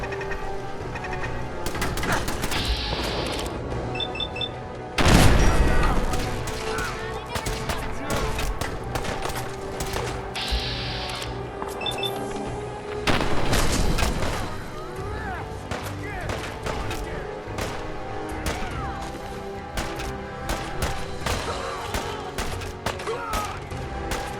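Gunfire in the video game Fallout 4, with bursts and scattered shots over a busy, continuous backdrop of game sound, including a couple of louder blasts, while a voice speaks at times.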